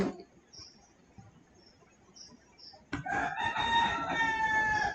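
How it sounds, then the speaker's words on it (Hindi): A rooster crows loudly nearby in the second half, a long strained cock-a-doodle-doo following a few seconds of quiet outdoor background with faint distant chirps. "अभी भाई शायद आपको मुर्गे की आवाज आ रही होगी"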